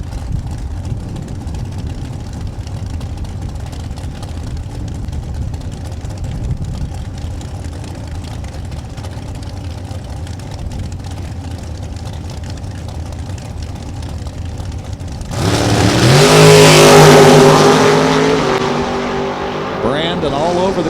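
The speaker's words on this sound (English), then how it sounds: "the 68 Camaro going to back it up and line it up from Big Bend, Wisconsin. How about a 765 cubic inch Dart power plant?" A 1968 Camaro drag car with a 765 cubic inch Dart engine rumbles at a drag strip for a long stretch, then a much louder roaring engine surge swells near the end, with crowd and ambient noise throughout.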